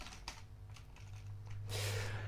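Quick keystrokes on a computer keyboard, a soft irregular clatter of clicks over a low steady hum, faint and close with no talk.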